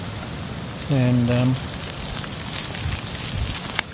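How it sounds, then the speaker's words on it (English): Mixed snow and rain falling on a camp along the Appalachian Trail in below-freezing cold, a steady soft patter throughout, briefly joined by a short spoken word. "a bit of mixed snow and rain coming through"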